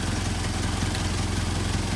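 A Mercedes 190SL engine idling on Solex 44PHH carburetors, a steady, even mechanical rumble with a faint clatter, close and continuous throughout with no voices.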